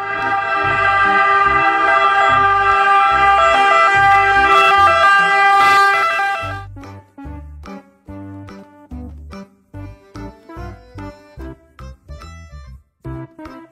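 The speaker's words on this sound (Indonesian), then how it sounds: "Mobil ambulans." A toy ambulance's loud, steady electronic siren wails for several seconds, then breaks into a choppy, pulsing pattern of short repeated bursts.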